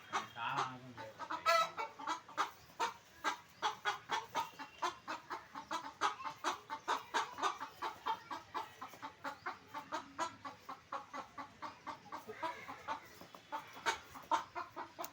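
Domestic chickens at home cluck continuously in a fast, busy rhythm, several birds close by and fairly faint overall, with a brief voice early on.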